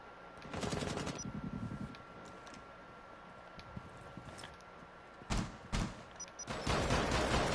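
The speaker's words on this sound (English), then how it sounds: "Caveira getting shot down by the Nomad" Automatic gunfire rattles in a Rainbow Six Siege esports grand final match. A rapid burst comes early, followed by a quiet stretch, then two more bursts near the end, all fairly faint and with no voices.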